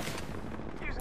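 Rapid, continuous gunfire from the Apex Legends video game, a dense crackling barrage that keeps going for the whole moment and sits at a moderate level.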